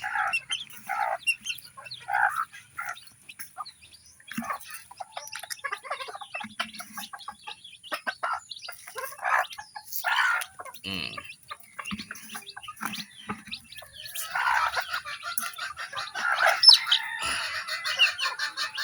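Chickens and chicks on a small backyard mini farm cluck and peep continuously, with scattered sharp calls and chirps, moderately close and with no talk over them.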